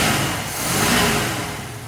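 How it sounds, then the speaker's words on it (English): A 1965 Ford Mustang engine roars close up, its revs swelling and easing in a brief rumbling burst with no voices. "So I've got the engine running."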